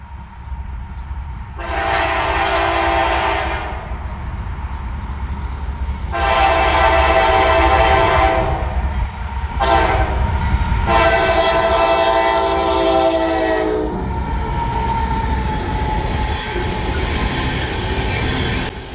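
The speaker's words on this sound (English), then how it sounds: "let's pause our trek for a bit and catch a few trains as they pass through town" CSX freight trains rumble through a town on the Columbus Subdivision, the locomotive horn sounding loud and near in a long-long-short-long pattern over a continuous rolling roar of wheels and cars.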